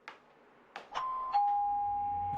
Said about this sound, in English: she gonna ring your doorbell